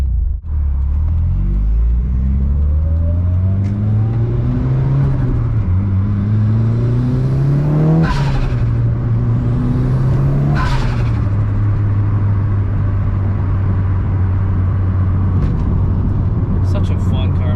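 A Mitsubishi Lancer Evolution VIII engine hums and revs through gear changes, the pitch rising and dropping as it accelerates, with steady road rumble throughout and no one speaking.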